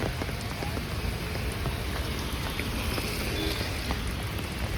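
Rain pours steadily onto a flooded road, a dense, even hiss of drops spattering on water that continues without a break.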